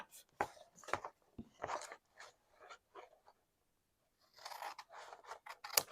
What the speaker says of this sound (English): I'm going to cut these two strips off just with my scissors here